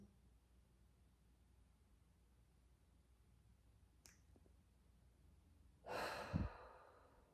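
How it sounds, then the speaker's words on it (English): A deep breath drawn in by a person, a short breathy rush near the end after a single sharp snap, close and soft, no talking. "So then we take a breath, hold"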